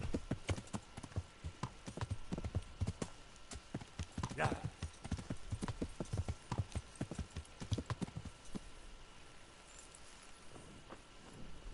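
Steady clip-clop of horse hooves trotting along at an even rhythm in the video game Kingdom Come: Deliverance, close by, with a brief whinny partway through.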